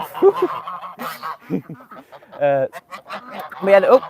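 Two farm geese honk loudly and close by in harsh, repeated calls. Bursts of cackling overlap one another.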